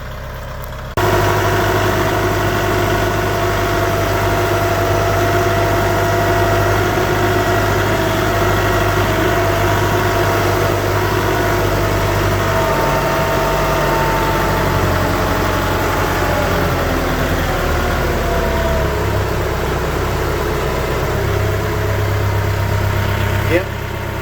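A Kubota tractor engine idles loudly and steadily up close with a constant low drone and rattle, its tone shifting slightly partway through as it drives into a building.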